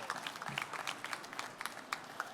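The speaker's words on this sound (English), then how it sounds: "Let's give a round of applause." Audience applause at a college pitch competition finale, fairly quiet and distant, a patter of scattered claps from a modest crowd lasting a couple of seconds.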